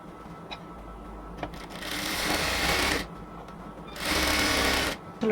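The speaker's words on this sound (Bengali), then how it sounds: "এবার আমরা হচ্ছে এদিক থেকে এটাকে একটা চাপ সেলাই দেব।" A sewing machine stitches salwar fabric in two loud, rapid bursts of about a second each, separated by quiet pauses, with faint background sound between runs.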